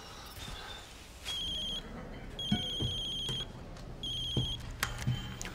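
A telephone rings in repeated electronic trills, about three bursts with pauses between, over a quiet background with faint knocks and soft movement.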